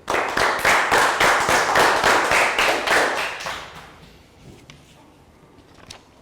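A Year 3 classroom gives a round of rhythmic clapping, loud and steady for about three seconds before fading out, followed by quiet room noise and a few faint taps.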